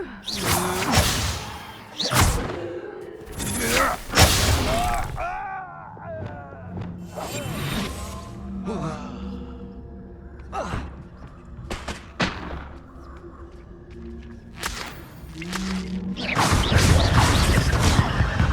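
Reducto blasting spell effects in the Hogwarts Legacy video game, with several loud crashing bursts and whooshes amid battle noise, punctuated by a voice shouting spell names.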